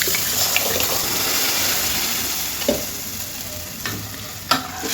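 Chopped vegetables tipped into a hot pan of oil with fried green chillies sizzle loudly and steadily, with a few sharp stirring clatters and scrapes breaking through the constant hiss.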